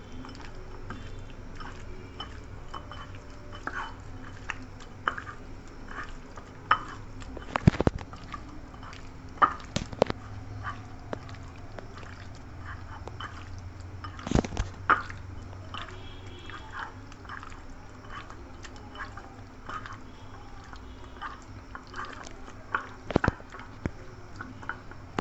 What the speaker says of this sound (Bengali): এখন আমি এগুলোকে ভালো করে মেখে নেব।